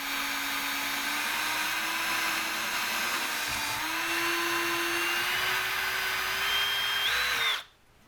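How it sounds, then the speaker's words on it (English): A power drill whines steadily for several seconds, its pitch creeping upward as it bores, then spins down and stops near the end. "So just make sure you drill."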